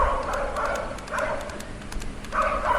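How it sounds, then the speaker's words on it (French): Two large dogs bark in a cartoon scene, a rough run of repeated woofs and yips over a busy background. "voici qu'arrivent deux gros chiens qui se mettent à aboyer et poursuivent Renard."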